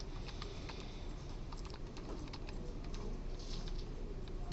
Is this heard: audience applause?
no